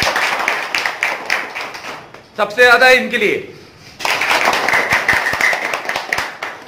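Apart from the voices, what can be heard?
class clapping hands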